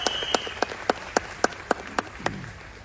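About ten separate sharp claps ring out at an even, slow pace over a soft background hiss at a motivational speaking event, loud and close, with no voices.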